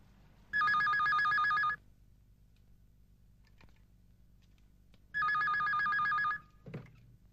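Two long bursts of an electronic telephone bell trilling, each about a second long with a pause between, loud and close over a quiet room with faint background movement.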